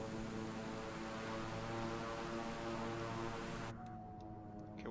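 Beechcraft King Air 350 turboprop engines idling in Microsoft Flight Simulator 2020, a steady loud droning whine with tonal hum that drops abruptly near the end to a quieter idle.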